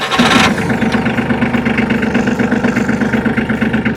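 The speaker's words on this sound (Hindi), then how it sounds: "इस ट्रैक्टर की मैं आवाज़ भी आपको थोड़ा सा सुनाता हूँ" A New Holland Simba 30 Blue Series mini tractor engine, heard close and loud. It starts with a brief burst, then settles into a steady, smooth mechanical idle that holds evenly to the end.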